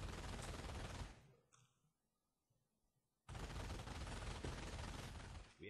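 Dense bursts of video-game gunfire cut down a machine-gun squad: a loud sustained volley, a short lull with faint mechanical clicks, then another heavy continuous barrage.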